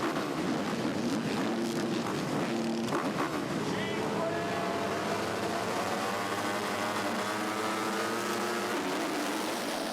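MX2 motocross motorcycles racing at the Fermo round of the world championship in Italy, engines revving and whining at shifting pitch, moderately distant, with a voice talking over them throughout.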